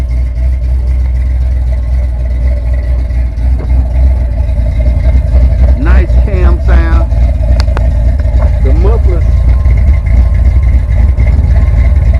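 A Fox-body Ford Mustang engine idles steadily with a low, constant rumble, while wind buffets the scene and a few faint higher sounds pass briefly in the middle.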